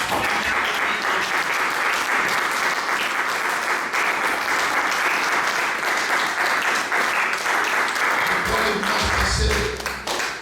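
A church congregation breaks into loud, sustained applause to acclaim the king, a dense, steady wash of clapping that holds for about nine seconds before tapering off at the end.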